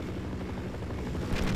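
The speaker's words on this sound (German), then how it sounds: "Ah, da ist ein Heli." A helicopter in the video game Half-Life: Source drones with a low, steady rotor rumble at moderate level, thickening slightly near the end, with no talking.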